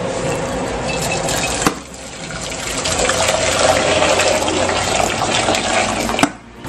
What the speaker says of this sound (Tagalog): lagyan natin ng tubig, pero ang ilalagay ko dito ay hot water na para mabilis.